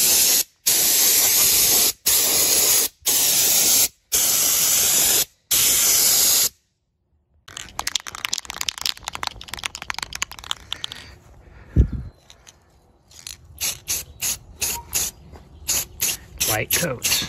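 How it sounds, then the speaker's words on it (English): Spray can of metallic aluminum paint coating an R2-D2 dome, hissing in a series of loud one-second bursts, then a longer stretch of irregular, softer spraying and shorter bursts. "we're going to now spray the dome"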